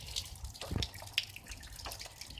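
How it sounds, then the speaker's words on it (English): Rainwater drips from a roof into a puddle during rain, a few quiet scattered drips against a soft wet background wash, no talking. "the rain falls on the thing or whatever on the roof, and it just keeps dripping and dripping and dripping for a while"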